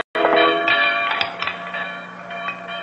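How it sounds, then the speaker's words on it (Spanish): A newly installed church bell on the island of Molokai rings loudly and near, with a strike that begins abruptly after a short silence, then repeated clanging strikes whose metallic tones linger and overlap. "Maldita campana nueva."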